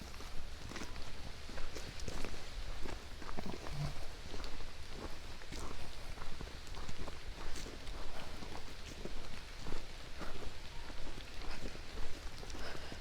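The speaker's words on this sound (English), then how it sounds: "It happens to be raining," Rain falling on a forest trail at Falls Ranch Park near Williamsport, Indiana, a steady soft patter with scattered sharper drops and footsteps crunching along, no talk heard.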